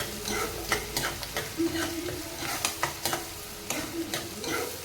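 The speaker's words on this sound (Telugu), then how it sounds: "వేగుతున్న ఉల్లిపాయ దాంట్లో అల్లం వెల్లిగడ్డ పేస్ట్ వేసుకోవాలండి" Onion frying with ginger garlic paste in a pan for a spicy chicken fry, giving a steady soft sizzle broken by repeated stirring scrapes and taps at an irregular rhythm, close and fairly quiet.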